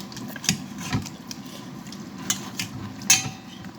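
Maggi noodles are stirred with sauce in a bowl or pan, giving soft scraping and a few sharp clinks of utensil on dish, close and otherwise quiet.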